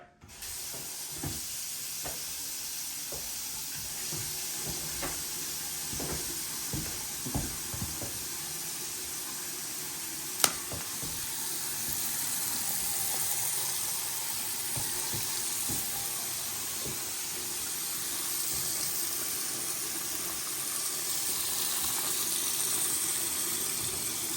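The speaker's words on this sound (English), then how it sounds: "it's time to give our faucets a try" Water runs steadily from a newly installed bathroom faucet with tall handles, a continuous close hiss with a few light clicks and taps scattered over it, carrying on unbroken throughout.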